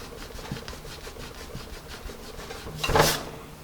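A Mars eraser rubs pencil marks off paper in a steady run of soft, close scrubbing strokes, ending in a louder, brighter burst of friction near the finish.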